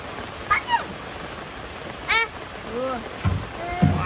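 Rain falls over an open field in Vietnam where fish traps are being checked, making a steady soft hiss throughout, with voices speaking and calling out intermittently over it.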